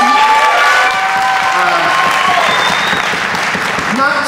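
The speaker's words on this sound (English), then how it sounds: "So can we give a round of applause for art moving policy?" Audience applause and cheering at a memorial concert, a broad wash of clapping with whoops and tonal voices rising over it, loud and close, with some speech-like vocal sounds mixed in.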